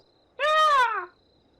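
A voice imitates a muffled cat meow coming from behind a door, one short rising-and-falling call alone in quiet.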